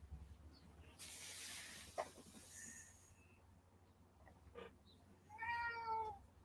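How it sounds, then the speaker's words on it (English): A male house cat meows in short, faint calls near the end, with a low steady hum and faint room noise around it. "He's telling me he's having a rough day because he's a kitty."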